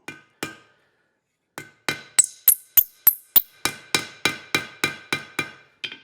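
Hammer blows ringing on hot steel while forging a hinge, a few spaced strikes then a fast steady series of sharp, bright clangs close by, with lighter taps between.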